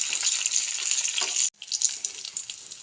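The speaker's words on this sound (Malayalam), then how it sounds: "മുന്തിരിയും അണ്ടിപ്പരിപ്പും എല്ലാം എന്താ മൂത്ത് വന്നിട്ടുണ്ട്" Raisins and cashews frying for payasam give a steady, close sizzle of hot fat with a short sharp break near the middle, then the crackle resumes.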